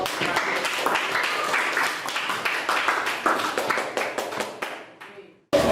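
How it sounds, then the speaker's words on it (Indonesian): Group of participants applauding a presenting team during a teacher-training practical exam session, dense hand clapping across a room that fades out near the end before a voice speaks. "Oke, tepuk tangan dulu untuk kelompok."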